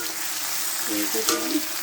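Onion and garlic fry in hot oil with a dense, continuous close sizzle and a couple of brief stirring scrapes near the end; nobody speaks.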